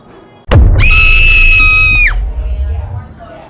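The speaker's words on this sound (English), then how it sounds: "I know that scream anywhere." A man lets out a loud, sustained scream of pain that lasts over a second, straight after a sharp thud, set in a workout space. The scream fades into rumbling background noise.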